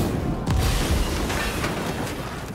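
A film explosion of an RPG warhead shot by a sniper rumbles as a deep boom with a sustained roar of debris and noise, moderately loud.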